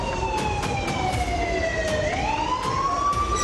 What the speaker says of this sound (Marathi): सायरन वाजल्यानंतर नागरिकांना जवळ असलेला सुरक्षित निवारा शोधता येतो।